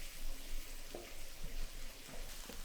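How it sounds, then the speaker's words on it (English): Finely diced shallot sizzles quietly in melted butter in a pan, a soft, steady hiss with faint stirring clicks, low in level and without talk. "we're going to add a large finely diced shallot and cook for about 2 to 3 minutes"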